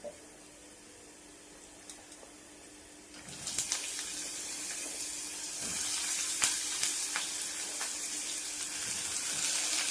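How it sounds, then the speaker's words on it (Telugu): Cleaned bottle gourd pieces tipped into a hot pan set off a sudden rush of sizzling that swells and stays loud and steady, with faint clinks and no voices. "ఇప్పుడు ముందుగా క్లీన్ చేసి పెట్టుకున్న పొట్లకాయ ముక్కల్ని వేసుకుందాం"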